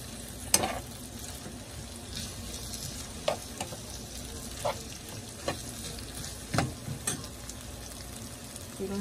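Green beans frying in a pan, a steady hiss of sizzling with repeated scraping stirs from a utensil, fairly close and alone.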